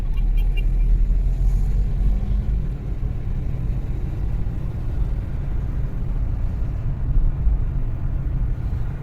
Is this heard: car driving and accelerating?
yes